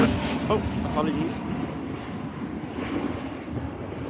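Boeing Dreamliner at Birmingham airport, a distant steady jet engine rumble with wind noise, heard under someone talking.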